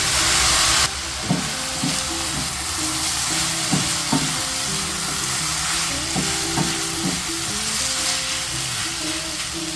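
Silver needle noodles stir-fried in a wok, with soy sauce poured in around the rim. A loud, continuous close sizzle runs throughout, broken by repeated scraping and clanking strokes of the spatula against the metal, with no voices.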